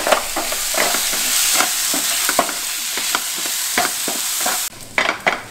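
Turmeric and cumin powder sizzle in a hot pan for paneer bhurji with vegetables, with a steady frying hiss and repeated scraping stir strokes throughout that briefly dip near the end.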